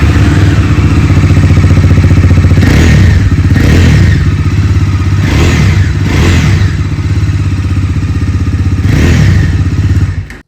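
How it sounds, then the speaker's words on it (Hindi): A loud 2026 Bajaj Dominar 250 motorcycle engine idles with a steady, deep exhaust rumble, blipped by several sharp throttle revs that rise and fall, close to the bike. "अभी सुन लेते हैं डोमिनार 250 की एग्जॉस्ट नोट।"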